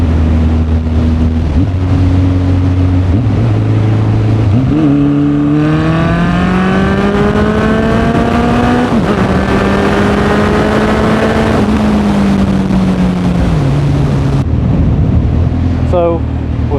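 Honda CB1100 motorcycle engine pulling hard through the gears, with a loud, steady drone that rises in pitch, drops at each shift and climbs again, under heavy wind rush.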